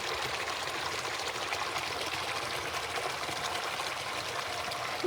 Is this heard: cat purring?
no